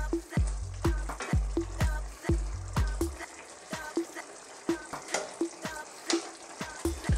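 Shrimp and scallops sizzle in a pan of Arabic fish stew sauce, with a steady close frying hiss broken by repeated sharp clinks and scrapes as the pieces are turned, and no talking.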